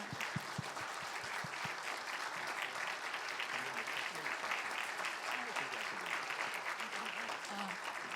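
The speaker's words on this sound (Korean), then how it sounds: "힘찬 박수로 축하해 주시기 바랍니다." Hearty celebratory applause from a church congregation at a Sunday worship service as flowers are presented, steady crowd clapping throughout at a moderate distance, with some voices underneath.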